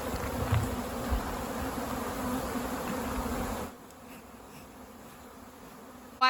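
Native honeybees buzz in a steady swarming drone at a hive rescue in Mallorca, with the dense hum dropping to a quieter, thinner background after a few seconds.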